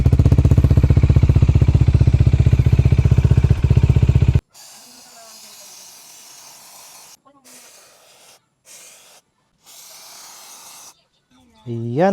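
Mars Motorcycle Chain Cleaner sprayed onto the chain of a Bajaj Dominar 400: a loud engine idle cuts off, then several short hissing spray bursts separated by pauses, ending with a faint rising tone.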